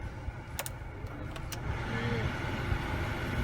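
Honda City car engine running just after starting, a low steady idle rumble filling the background, with a few sharp clicks early on and a voice speaking over it.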